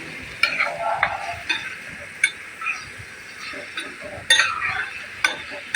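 Turmeric powder frying in oil for red cherry pickle while being stirred, a soft sizzle under repeated scraping and clinking strokes of a spoon against the pan, close and irregular.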